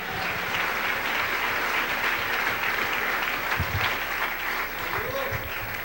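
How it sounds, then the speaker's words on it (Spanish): Church congregation gives loud, sustained applause for the King during a Pentecostal service, steady dense clapping with cheering voices mixed in throughout. "Dale un aplauso al Rey, porque Él es maravilloso"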